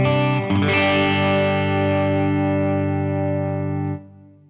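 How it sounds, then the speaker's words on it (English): An electric guitar played through a VC30 AC30-style amp simulation in Empire strikes one loud, chimey, slightly distorted chord that rings out steadily for about four seconds, then cuts off. "I think that's a really good emulation of an AC30 style tone."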